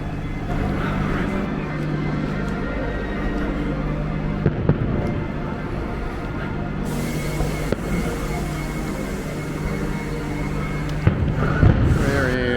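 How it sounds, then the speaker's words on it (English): Fireworks booming around Disney's Animal Kingdom Lodge at Kidani Village, a few sharp distant-sounding bursts and crackles rising over a steady rumble of idling buses and crowd chatter, with people talking throughout. "Fireworks are sending us off"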